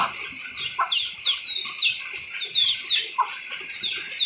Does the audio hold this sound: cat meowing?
no